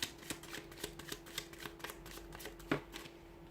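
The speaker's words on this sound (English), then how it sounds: "let's give the cards a shuffle" Soft rapid riffling and tapping of a tarot deck being shuffled, close and quiet, with a sharper snap near the end.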